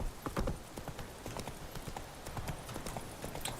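Horse Roach gallops at a steady clip-clop in Witcher 3, hooves drumming in quick repeated beats over game ambience, with someone speaking briefly.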